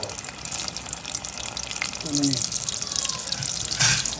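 Wrapped dynamite chili rolls frying in hot oil give a steady watery sizzle and bubbling hiss throughout, rising a little louder near the end.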